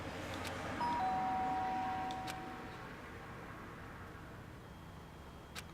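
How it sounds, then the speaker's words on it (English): A faint two-tone doorbell chime from the Danganronpa video game, ringing briefly and quietly over a low background hiss with no voices. "The sharp sound of the doorbell pieced my sleepy haze"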